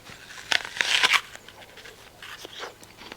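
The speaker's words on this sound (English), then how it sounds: "I'm not going to sit here and let y'all listen to me crunching on this apple for 5 minutes." Crisp, close crunching of someone biting and chewing a fresh apple, with bursts of crackly chewing that rise and fade over a few seconds.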